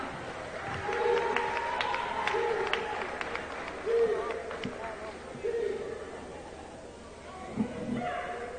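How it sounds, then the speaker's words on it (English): Crowd applause in a high school basketball gym during player recognitions, a steady wash of clapping and cheering under the announcer's voice, with occasional whoops. "Round of applause for Paul."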